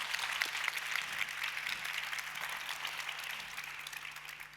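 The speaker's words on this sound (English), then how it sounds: "Give them a warm applause." Audience applause welcoming a social media industry panel, dense crowd clapping heard throughout at moderate volume, easing off slightly toward the end, with a faint steady hum underneath.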